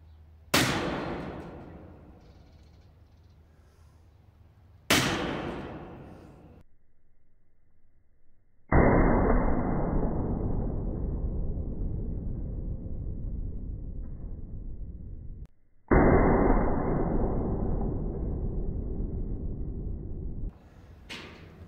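An old Lefaucheux centrefire hunting shotgun loaded with black powder fires twice, each a sharp loud report with a long decaying tail, followed by two long rough hissing bursts and a short quiet stretch between.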